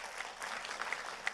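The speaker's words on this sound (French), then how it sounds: "Qu'on peut applaudir." Audience applause at a 2021 finals ceremony: steady, dense clapping from many hands, moderately close and sustained throughout without letting up.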